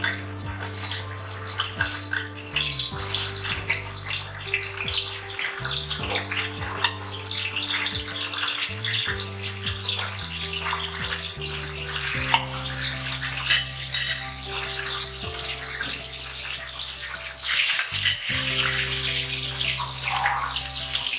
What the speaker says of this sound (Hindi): अब हम सबसे पहले जो हमने अंडे बॉईल किए हैं इनको हम फ्राई करेंगे।